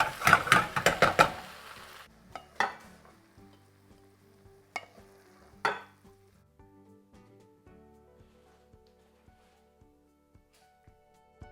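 Cooked shallots are stirred into okra and onion in a pan, with a burst of sizzling and scraping at first, then a few spoon clacks against the pan as the frying fades to quiet ticks.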